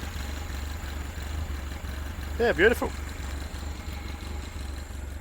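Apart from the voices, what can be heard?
Ford 100E Anglia classic car engine idling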